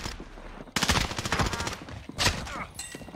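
Rapid automatic gunfire in Call of Duty Warzone on Rebirth Island, two close bursts of quick shots with short pauses between them and some lighter fire trailing off at the end.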